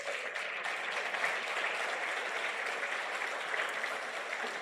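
Steady applause from a large church congregation during a sermon, even and sustained throughout, without any voices standing out.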